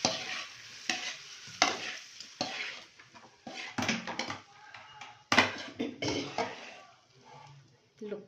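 Chicken manchuria is stirred through with spring onions in a pan, a steady sizzle carrying scraping spoon strokes and occasional louder clatters, with faint voices now and then.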